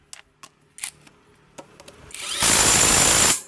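A power tool tightens a 17 mm nut during fan belt installation, preceded by scattered light metallic clicks and taps, then a loud, continuous whirring burst of about a second close by, with no talking.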